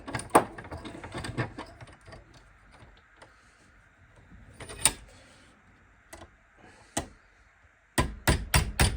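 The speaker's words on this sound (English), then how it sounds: "just keep tapping it, keep working it, and eventually the pin comes straight out" Sharp metal taps of a punch driving a pin out of a Hillman Imp gear stick held in a vise, irregular single strikes spaced apart, then a quick run of four close hits at the end.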